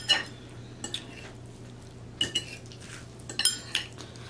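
Plastic cutlery scraping against a plate or container during a homemade soul food meal, a few short light scrapes and clicks scattered over a quiet background with a steady low hum.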